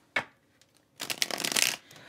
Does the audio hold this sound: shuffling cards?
yes